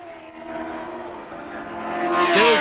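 A Brabham Formula One car at the 1964 British Grand Prix, driven by Jo Bonnier for Rob Walker's team, whines through its gears as it comes into the pits, growing louder and nearer with a rising pitch near the end.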